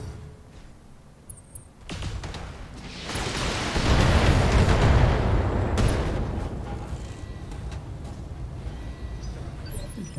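Mech weapons fire in the BattleTech game, a heavy rumbling barrage that swells into a loud, sustained booming roar and then slowly fades, with lighter crackling bursts toward the end.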